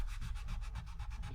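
Steady rhythmic rubbing as a wet rag scrubs glue marks off a semi-hollow guitar body, close up and continuous with a regular back-and-forth pulse.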